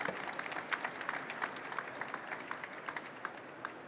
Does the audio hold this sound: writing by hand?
no